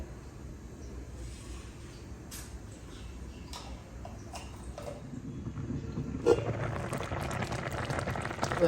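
A pot of milk and water boils on the stove, a soft, steady bubbling that swells louder and more vigorous toward the end, with a few faint ticks and clinks of kitchen activity.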